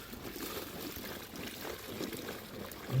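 Water pours and splashes over freshly caught native village fish such as koi and taki, a steady close wash of trickling liquid that runs for the whole stretch without a break.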